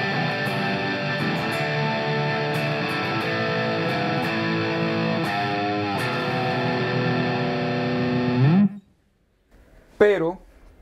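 Electric guitar through the JCM800 amp model of a Line 6 Spider V 60 gives a thick, distorted, sustained riff for about eight seconds. It cuts off abruptly, followed by a brief squealing note near the end.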